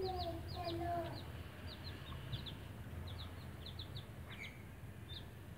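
A hen and her five-day-old chicks clucking and peeping while dust bathing in soil, soft repeated high chirps over a low steady outdoor background, fairly quiet and close.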